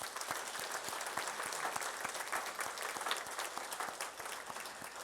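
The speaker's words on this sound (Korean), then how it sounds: "감사하고 박수 한번 하세요" Sustained applause from a church congregation fills the room, many hands clapping steadily and fairly loud for about five seconds with no talk over it.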